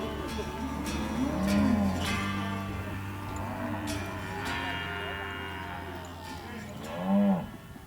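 Cattle on an Argentine ranch low repeatedly, with two distinct moos standing out, one early and one near the end, both fairly close, over a steady rural background hum.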